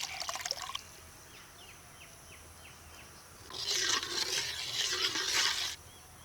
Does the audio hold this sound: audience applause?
no